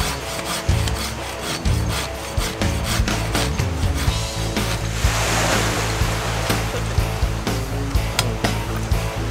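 A handsaw cuts through a thick log at a beach campsite, loud rhythmic back-and-forth rasping strokes repeating steadily and close up.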